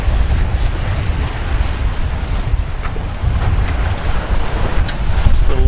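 Sailboat under way on open ocean between the Bahamas and St. Thomas, with steady loud rushing wind across the microphone and surging waves against the hull, continuous and close with no voices.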